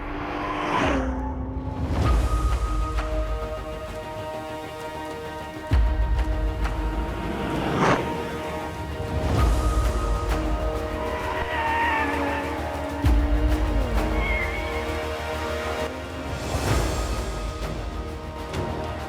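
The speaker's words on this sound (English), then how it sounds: "I put into second here, jump into third, and then I can power slide it out" A sports car on a short track shifts up through the gears and power slides, its engine droning and changing pitch through each shift, with tire squeals and skidding swishes in between and no talk.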